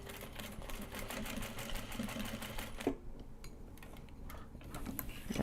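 A sewing machine stitches the box of a welt pocket on a small travel piece, a steady close whirring broken by a brief pause and a click before the motor picks up again.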